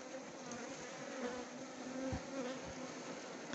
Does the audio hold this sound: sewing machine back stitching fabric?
no